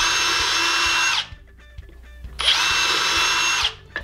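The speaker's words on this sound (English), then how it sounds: "I'm going to use some 3/32 inch bit so that I can pre-drill all these and there's very little chance of splitting them." Power drill with a 3/32 inch bit pre-drilling holes in wood: two loud, close bursts of whining motor about a second long each, separated by a short pause of small clatter and handling noise.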